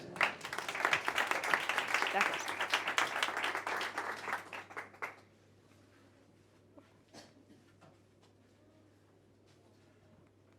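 Audience applause for the head of ESG at Ant Bank España, at a sustainability talk: dense clapping fills about five seconds, then breaks off into room quiet with a brief spoken word and faint shuffling.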